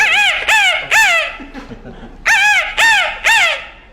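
A man imitates a jungle fowl, giving a run of loud, close, harsh crowing calls in two groups of three, separated by a short quieter gap.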